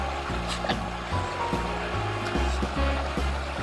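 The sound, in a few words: wild river stream flowing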